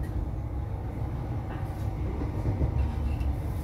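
Inside a train formed of HST power cars 43285 and 43303 running from Bristol Parkway to Cheltenham Spa, a steady, loud low rumble and roar of the moving carriage continues throughout with faint rattles and no voices.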